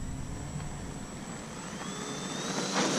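An E-flite EC-1500 RC jet plane takes off on a morning flying session, its ducted-fan whine steady and fairly loud, with a rising tone sweeping upward as it gathers speed and pulls away.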